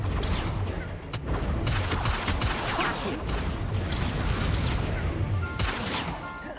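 The Incendio fire spell being cast in Hogwarts Legacy, a dense, continuous burst of crackling blasts and booms that stays loud throughout, with a voice calling out under it.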